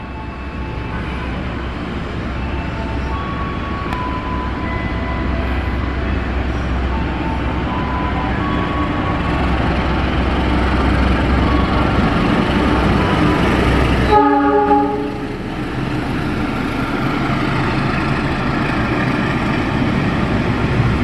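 A passenger train hauled by a CC206 diesel locomotive rolls into Jatinegara station in Jakarta, a loud steady rumble and rail noise building, then a long multi-tone horn blast sounds near the end before the roar eases.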